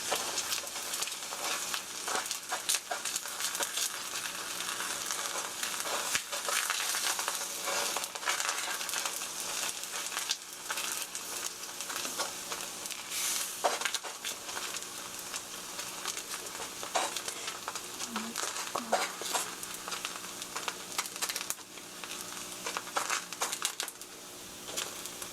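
Egg mixture with green onion sizzles and crackles in a frying pan, a steady bright hiss with scattered pops and occasional scraping and tapping of a utensil, no voices.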